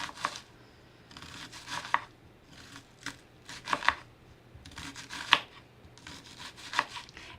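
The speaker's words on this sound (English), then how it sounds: "we're going to turn our onion the opposite way, and you can see we have a nice, beautiful diced onion" A knife dices an onion on a cutting board in irregular bursts of crisp slicing and chopping, close and fairly quiet, with short pauses between cuts.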